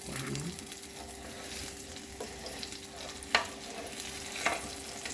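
Chillies fry in oil with a steady close sizzle, broken by a few sharp spatters and utensil clicks.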